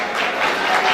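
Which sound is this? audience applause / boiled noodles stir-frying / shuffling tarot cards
audience applause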